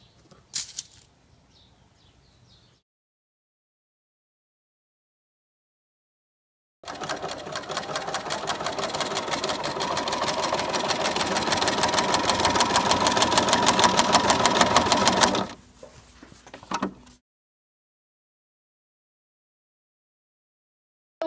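A sewing machine stitches quilt binding in one steady, fast-pulsing run of about eight seconds that gradually grows louder, followed by a couple of brief short bursts, with no talking.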